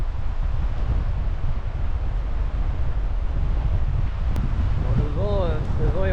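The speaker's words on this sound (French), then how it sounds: "Alors, le vent est encore présent." Wind blowing hard across the microphone on the Crozon peninsula coast, a constant loud buffeting rush with a brief voice near the end.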